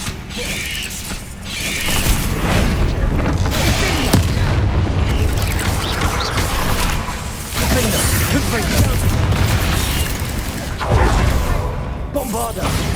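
Bombarda blasting spell in Hogwarts Legacy, repeated heavy booms amid clattering, creaking debris and shattering, with combat noise throughout and voices speaking in places.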